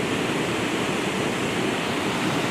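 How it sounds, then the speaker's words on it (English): A Wisconsin waterfall pours beneath a rock, a loud, steady, broadband rush of falling water with no pauses, heard close by and alone. "The falls are under me right now, under this rock."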